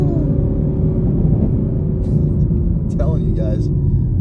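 A 2023 Camaro with the LT1 V8 pulls in first gear, giving a steady, dense engine rumble from inside the cabin with a brief faint sound over it near the end.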